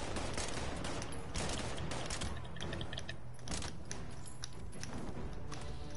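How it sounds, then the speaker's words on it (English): Gunfire erupts while shooting an enemy in the video game Fallout 76. Loud, sustained volleys of shots crackle close up, mixed with mechanical clanks, for several seconds without let-up. "So I'm gonna shoot her."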